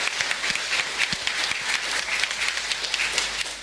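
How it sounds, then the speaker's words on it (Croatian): Applause from a congregation at a Catholic Mass marking a 25th anniversary, a steady crowd of clapping hands throughout, fairly dense and even with a few sharper individual claps near the front. "Možemo i pozdraviti pljeskom."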